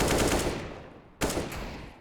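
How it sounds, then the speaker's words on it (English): An AWP sniper rifle shot in a Counter-Strike match, two sharp loud blasts roughly a second apart, each with a long decaying echo, no voices. "that AWP shot is gonna be great"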